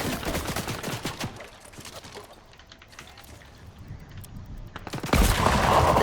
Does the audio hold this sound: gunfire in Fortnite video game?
yes